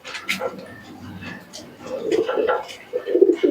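Pigeons, teddy-type birds kept for sale, coo in soft low bursts, swelling louder toward the end with short gaps between calls, close by.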